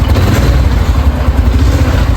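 A motorcycle engine runs loud and close after a kick-start, a steady rough idle with clattering mechanical thumps throughout.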